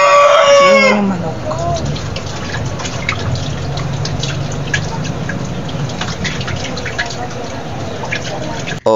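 A rooster gives one short crow right at the start, then the scene shifts to a steady, noisy outdoor background with faint dripping and distant voice-like sounds.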